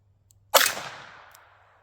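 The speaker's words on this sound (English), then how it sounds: "our next shot is out of the Taurus 327" A single sharp report from a Taurus 327 revolver firing a .32 S&W Long round, a loud crack with a decaying tail of echo, followed by quiet.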